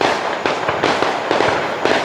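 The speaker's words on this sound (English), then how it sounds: "Shooting fireworks." Fireworks being set off outdoors, a rapid series of sharp cracking bursts crackling back to back at close range, loud and alone without any talking.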